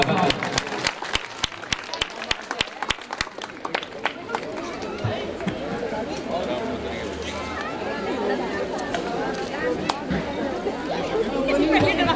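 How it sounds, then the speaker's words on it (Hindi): Audience applause at a devotional Krishna and Ram birth celebration at a cow shelter in Satnali, with sharp individual claps early giving way to sustained clapping mixed with crowd chatter. "इनके नाम पर जोरदार तालियों का स्वागत है।"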